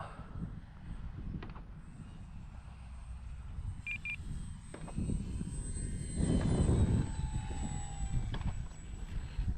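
An X-Fly Tasman RC airplane flying on its maiden flight on a windy day, its electric motor droning steadily at a distance with rising and falling pitch as it passes, wind buffeting the microphone and a short beep in between.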